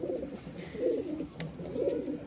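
A pair of Danish pigeons coo softly and repeatedly at close range. Low, rolling calls come about once a second over faint background noise.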